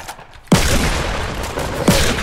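Gunfire in the Fortnite battle royale, a burst of several loud shots opening sharply and running as dense rapid fire, with a second heavy report near the end.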